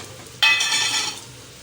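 A potato bhaji mixture stirred in a frying pan: a sudden burst of scraping sizzle that fades over about a second, near and fairly soft, with no talk.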